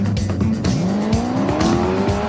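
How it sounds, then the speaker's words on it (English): A drag bike powered by a Chevy big block V8 does a burnout, the engine roaring loud and close with rising revs as the rear tire squeals and skids continuously. "If you like burnouts, this is your bike."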